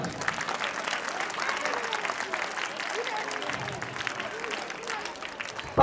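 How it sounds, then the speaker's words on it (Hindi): At an annual school prize distribution ceremony, an audience applauds prize-winning children with steady, moderately distant clapping that lasts for several seconds. "इन बच्चों के लिए इनका भी अभिनंदन तालियों के साथ"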